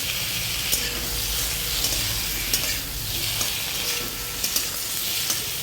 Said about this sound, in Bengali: নেড়ে নিচ্ছি যাতে আলুর মধ্যে মশলাগুলো ঢোকে।